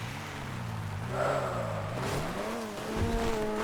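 A car engine in the GTA V video game labors uphill on a mountain road, revving and shifting pitch with a tire squeal near the end, loud and close.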